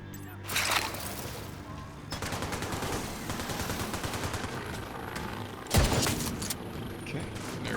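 Sniper rifle fire in a one-shot sniper build video game: a few sharp, loud gunshot blasts, one sharp crack late on, over continuous gameplay noise and background rumble.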